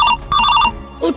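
A phone ringtone chirps out a short, bright electronic melody, loud and close, with a few quick repeating tonal notes.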